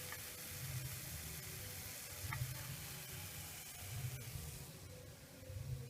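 Gulab jamun fry in ghee in a kadhai with a steady, soft sizzle and bubbling hiss, broken by occasional faint clinks and stirring sounds and heard close and without talk.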